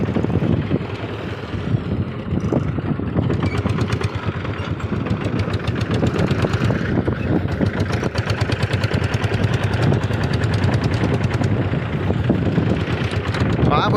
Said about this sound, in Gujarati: તો સામે એક ટ્રેક્ટર હાલી રહ્યું છે,